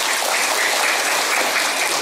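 Dense, sustained applause from a crowd at a golden wedding anniversary ceremony, loud and even throughout with no speech over it.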